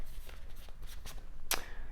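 Tarot cards shuffled by hand, with soft, close-up rustling and riffling that ends in one sharp snap of the deck.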